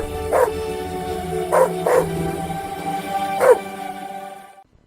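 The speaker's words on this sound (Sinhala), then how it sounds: "වත්තේ හිටපු බල්ලෝ ටික එක දිගට අමුතු විදිහකට උඩුපුරන්න ගත්ත හින්දා" Several dogs in a yard howl and bark in a drawn-out chorus, with four louder, wailing bursts rising over a steady background of yelping that fades to silence at the end.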